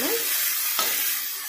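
A spatula scrapes briefly through pui saag and egg bhujiya in a hot pan, over a steady, close sizzle.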